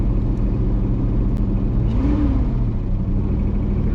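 A 1984 Chevrolet one-ton truck's 454 big block V8 idles steadily up close with a deep continuous rumble. Its pitch briefly rises and falls as the engine revs slightly.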